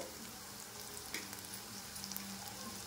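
Chopped tomatoes hitting softened onions in a hot pan for a soybean and potato curry, a steady close hiss of frying with small crackles and stirring taps.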